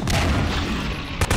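A grenade blast in Half-Life 2: Episode Two, a loud booming explosion filling the moment, followed by a short sharp burst near the end.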